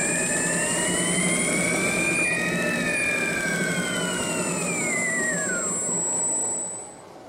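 A homemade flywheel generator spins up under its motor, giving a loud continuous whine whose tones rise and bend upward, then fall away, over a steady hum before cutting off near the end.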